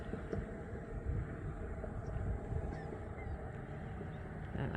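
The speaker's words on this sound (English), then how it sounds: "there's birds there on that little sand break thing" Geese honk near a sandy beach break by a bay, the calls repeated at a middle distance over steady traffic rumble, with no talking.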